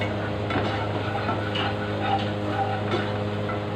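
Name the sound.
stirring garlic in a pan for sinigang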